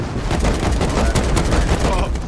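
Dense, continuous gunfire from the video game Rust, rapid overlapping shots and booms that keep up loudly for the whole stretch, with voices talking underneath.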